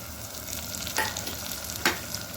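Green chili dropped into a sizzling pan with turmeric and roasted vadi for a bottle gourd dish, a constant close frying hiss with two sharp stirring scrapes about a second apart.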